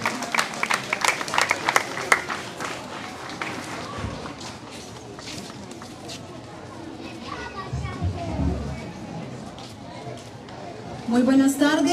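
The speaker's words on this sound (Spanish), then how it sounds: "Un aplauso fuerte, por favor, para nuestra gobernadora" An outdoor crowd at a Central American torch reception in El Salvador claps to welcome the governor. The applause mixes with lively children's voices, chatter and footsteps, and swells again toward the end.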